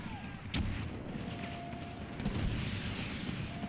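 Video game gunfire, deep booming shots and heavy low rumbling explosions, with one sharp nearer crack early on, against continuous battlefield noise.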